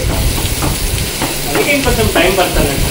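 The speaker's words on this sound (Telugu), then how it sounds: "ఇంకా 1 ఆనియన్ గ్రైండ్ చేసి పెట్టుకున్నాను, అది వేసుకొని కలర్ చేంజ్ అయ్యే వరకు వేయించుకోవాలి" Ground onion paste fries in oil with cloves and cinnamon, a loud, dense, close sizzle and bubbling hiss that runs without a break, with faint scraping as it is moved around the pan.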